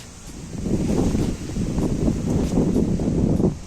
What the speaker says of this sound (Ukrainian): Ох і вітер.